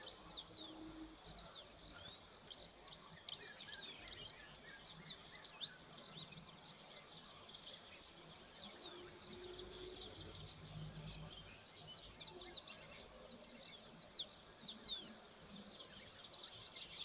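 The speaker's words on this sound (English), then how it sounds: "having a bit of a listen to see what other birds are calling out" Wild birds call around a waterhole, with faint high chirps and tweets scattered throughout over a soft, steady outdoor background, distant and quiet.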